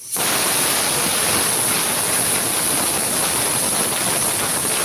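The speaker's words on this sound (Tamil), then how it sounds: "குக்கர் மூணு சவுண்டு வந்துருச்சு போதும்" A pressure cooker on a kitchen stove during lunch cooking lets out a loud, continuous hissing whistle of steam that holds steady for several seconds.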